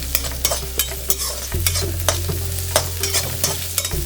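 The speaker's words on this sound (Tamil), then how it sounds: "இதை வந்து நல்லா வதக்கி, இந்த வெங்காயம் வந்து நல்லா சாஃப்ட் ஆகும், அந்த ஸ்டேஜ் வரைக்கும் இது நல்லா வதக்கணும்." Onion, ginger, garlic and green chillies sautéed in a pan, with a spatula scraping in a steady rhythm over a constant sizzle, close and loud with no talking.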